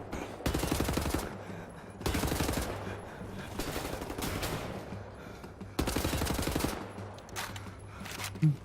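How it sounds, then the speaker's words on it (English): Bursts of rapid automatic gunfire in Wolfenstein: The New Order come in three long volleys separated by brief lulls, loud and close, with scattered shots in between. "where are all the shots coming from?"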